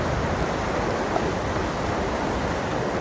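Heavy rain pours down in Madina, Saudi Arabia, a loud, steady broadband wash of water with no break, close and constant throughout, with no one talking.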